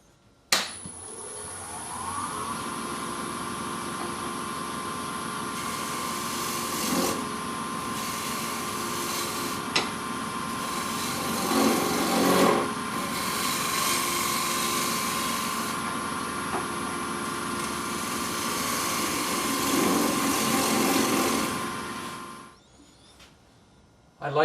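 Wood turning on a lathe with a negative rake scraper making a shearing cut: a steady whirring hum with a sustained scraping rasp running about twenty seconds before the motor winds down.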